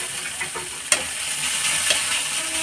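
Spices and ginger fry in a pan with a constant hissing sizzle, one clear clink of a stirring utensil and a fainter scrape after it, close and with no voices.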